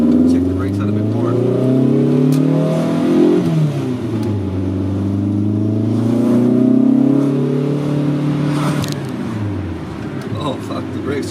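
A 1983 VW Rabbit GTI engine pulls through gears on a test drive, loud and close, with rising revs, shifts and dips, and steady wind and road noise throughout.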